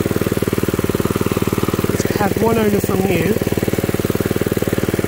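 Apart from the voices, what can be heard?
1979 Mountfield M1 Monarch 5HP rotavator engine running after first start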